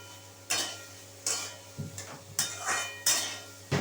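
Sliced beetroot going into a cooking pan: a series of sharp metallic clinks and knocks from utensils against the pan, about six distinct hits spaced irregularly, close and fairly quiet, over a faint low hum.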